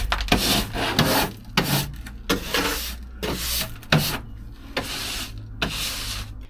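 Timber lengths being pushed and fitted into a van during a camper build: repeated scraping, rubbing and knocking of wood against wood and metal, fairly close, with no talk.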